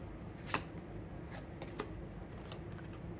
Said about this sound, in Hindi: अब अरेंज मैरिज के लिए मैं कुछ कार्ड्स निकाल रही हूँ